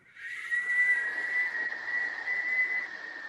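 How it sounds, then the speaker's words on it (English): One long, steady whistled breath out through pursed lips, close and sustained on a single airy tone for several seconds. "purse your lips and whistle out the exhale"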